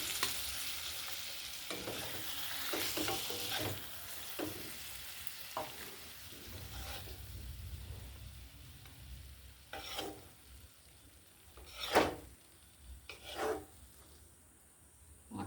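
Egg and pointed gourd curry simmering in a pan, a soft bubbling sizzle with close scraping stirs and a few sharper utensil knocks toward the end, fairly quiet.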